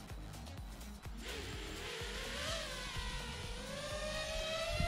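Drone motors in the Hawkeye Little Pilot VR simulator spin up, a rising synthetic whine over a rhythmic low pulsing, growing steadily louder with no talk.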